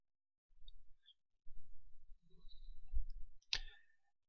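A computer mouse clicks while working in Microsoft Query, with faint scattered ticks and a single sharper click near the end, all quiet in an otherwise silent room.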